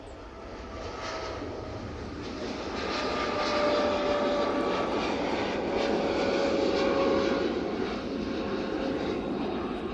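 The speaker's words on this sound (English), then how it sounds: "Dreamliner now on the roll using their 787-8 variant" A Boeing 787-8 Dreamliner rolls for takeoff at Manchester Airport, its jet engines a loud, steady roar that swells and holds, heard from a distance without talk.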